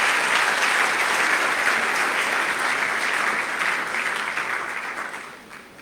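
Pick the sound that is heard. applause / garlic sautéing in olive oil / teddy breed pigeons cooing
applause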